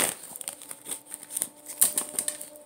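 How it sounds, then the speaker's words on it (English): A deck of tarot cards is shuffled by hand in a quick, irregular series of crisp riffling and flicking taps, close and fairly soft, with no talking. "Cards acting like they don't want to shuffle."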